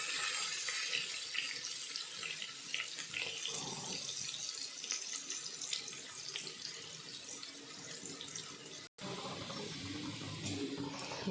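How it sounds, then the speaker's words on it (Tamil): Water pours steadily into a cooking pot in a kitchen, a continuous splashing stream with a short break near the end, fairly close and alone without talk. "அதுக்கு 5 உலக்கு தண்ணி ஊற்றிருக்கேன்."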